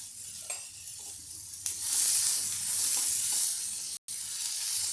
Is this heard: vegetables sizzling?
yes